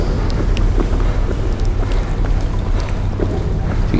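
A submarine glides underwater in the video game SOMA, a steady, loud, low rumbling drone with faint scattered clicks and creaks above it, unbroken from start to end.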